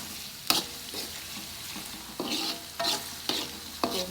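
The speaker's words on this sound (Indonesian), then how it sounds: "Jadi kita tinggal tumis bumbu halusnya saja" Ground spice paste being sautéed in a pan for Coto Makassar, a repeated rhythm of spatula scrapes and stirs over a continuous gentle sizzle, close and clear, with no talking.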